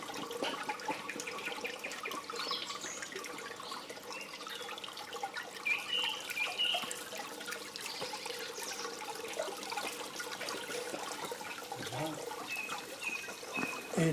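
A Paris fountain running with a much larger flow of water, giving a soft, distant splashing and trickling that holds steady throughout, with faint background noise.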